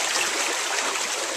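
Water rushes steadily through the controlled flow channel at an Archimedes screw turbine site in Germany, a continuous close hiss with no voices over it.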